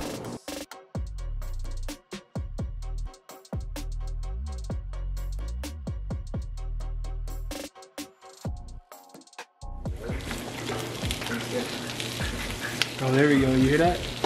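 Egg and vegetables sizzle and fry in a hot wok, a loud crackling hiss with stirring clatter, interrupted by brief pauses before the frying surges again in a busy home kitchen.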